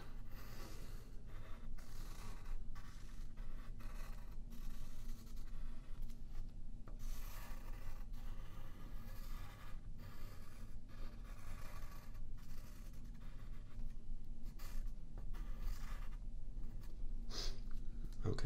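Pen drawing the letters ASMR on paper, close binaural scratching and rubbing strokes that continue steadily for the whole stretch with no talk.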